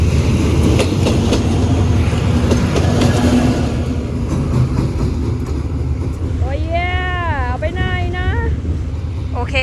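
Train no. 317 at Bang Sue Junction station in the evening: a steady, heavy rumble of rolling cars with faint clatter, then wavering high squealing tones near the end, with voices faintly present.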